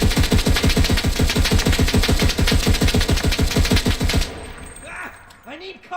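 An assault weapon in a World War II shooter game fires a fast, sustained automatic burst of sharp, loud, evenly spaced shots for about four seconds, then stops, leaving faint trailing clinks and mechanical noises.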